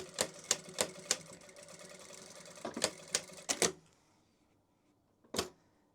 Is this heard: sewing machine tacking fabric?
yes